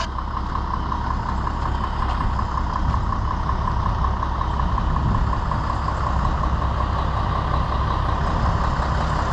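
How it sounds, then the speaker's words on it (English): A loaded roll-off trash truck's engine running nearby, a steady loud diesel rumble and drone that holds unchanged throughout with no talking. "Goddamn trash truck."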